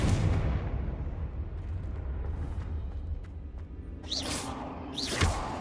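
A Confringo blasting spell fires in Hogwarts Legacy, giving a fiery whooshing burst over rumbling gameplay ambience, followed by two sharp bright swishes close together near the end.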